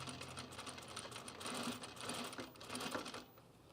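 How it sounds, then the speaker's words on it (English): A sewing machine stitches piping on a pajama top in a steady, continuous run of rapid needle clatter with small swells in speed, close and fairly quiet, with no voices over it. "now I'm just going to sew to the left of this stitch line here"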